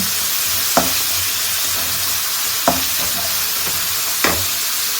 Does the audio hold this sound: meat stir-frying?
yes